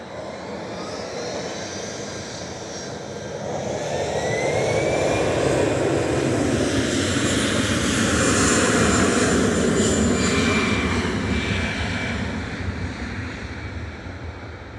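Airbus A319 jet airliner at Manchester Airport, its engine roar swelling to a loud peak mid-way with a rising whine, then slowly fading as it passes.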